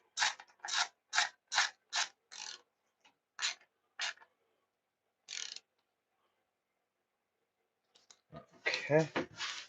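A ratchet tightens a bolt on a 2016 Suzuki GSXR600 motorcycle during final assembly, with a quick series of crisp clicking strokes, then a few spaced clicks, followed by a voice speaking near the end.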